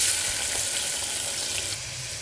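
Onions frying in leftover oil give off a dense, steady hiss that stays constant and fairly loud, then drops a little near the end.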